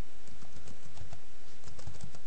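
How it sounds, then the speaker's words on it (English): Keys tapped on a computer keyboard while entering a movie title in editing software, a quick irregular run of light clicks close to the microphone with no talk. "Type the title of your movie in"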